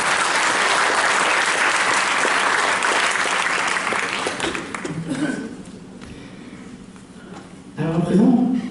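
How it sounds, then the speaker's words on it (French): Audience applause at a hypnosis show: loud, dense clapping for about five seconds, then fading to a softer, scattered patter before a brief louder burst near the end. "on peut l'applaudir très très fort."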